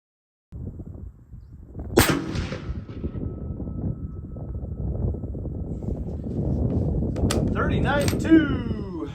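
A 7mm PRC rifle firing Barnes LRX 160-grain rounds: one sharp, loud report early on, then a quieter stretch with people talking and faint handling sounds.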